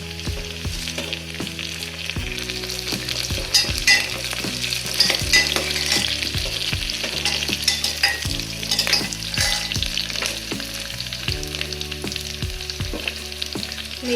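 Cumin seeds and curry leaves sizzle steadily in hot oil for Maharashtrian khichdi, a loud, continuous bright crackle and hiss with a faint musical tone underneath and no talking.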